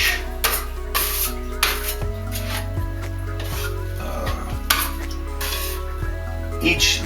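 Putty knife pulling joint compound across a sheetrock blowout patch, repeated scraping and rubbing strokes with light clinks, heard close over a steady low hum.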